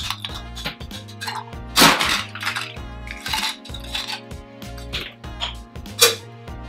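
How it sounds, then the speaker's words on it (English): Ice cubes dropped into a cocktail glass for a rum drink with Angostura bitters, giving a run of bright clinks and clatters with a few louder knocks, close and alone over a faint steady hum. "Next we'll add our ice."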